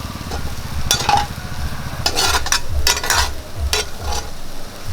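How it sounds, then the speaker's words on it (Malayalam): A spoon stirs a banana and red cowpea stir fry in a hot pan, with repeated scraping strokes in short bursts over a low continuous sizzle, close and fairly loud. "നമുക്കിനി ഇത് തുറന്ന് ഇളക്കി കൊടുക്കാം."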